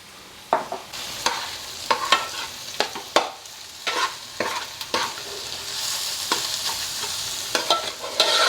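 Onion, garlic and ginger frying in hot oil for a Godavari river small-fish curry, with a steady close sizzle broken by repeated sharp scrapes of a spoon stirring against the pan, no voices.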